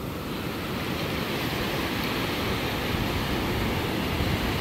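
Ocean waves wash over a beach where debris from a dead sea mammal lies, a steady broad roar of surf and rushing water, loud and continuous with wind noise and no voices.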